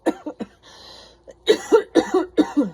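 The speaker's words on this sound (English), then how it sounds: "I'm so sorry about my cough" Several harsh coughs in quick succession, a short burst and then a longer run of hacking coughs, close and fairly loud with a breathy pause between.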